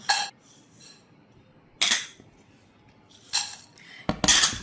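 Ingredients tipped into a clean pan, giving three separate short metallic clinks and clatters spaced about a second and a half apart, with a final longer rattle, quiet in between and no talking.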